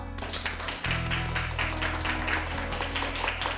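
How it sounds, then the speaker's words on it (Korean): Studio audience applauding to welcome a lecturer onto a Korean lecture-show stage, a steady dense clapping that swells in after a brief opening and holds loud and even throughout, with music underneath. "정진수 강사님을 큰 박수로 맞이해 주세요."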